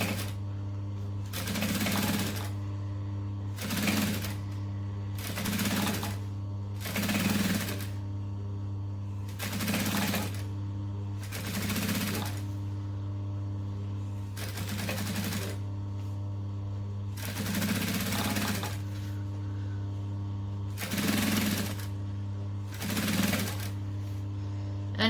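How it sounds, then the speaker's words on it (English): A sewing machine stitches down the edge of vinyl, running in about ten distinct bursts of rapid mechanical whirring separated by short pauses, with a steady low motor hum underneath throughout. "And then just stitching down."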